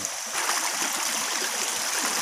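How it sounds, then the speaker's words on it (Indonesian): Water of the Burung Tiwuk river in Dayak Tunjung country, Kutai Barat, Borneo, rushing steadily over the stream bed with a bright, continuous babble and splash, fairly close and unbroken throughout. "Nah ini sungainya ya om."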